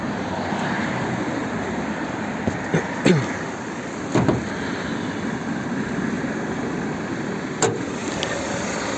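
A 2015 Jeep Patriot with a 2.4-litre, 170-horsepower petrol engine and automatic gearbox runs steadily, giving a continuous, even engine drone with a few faint clicks and knocks over it.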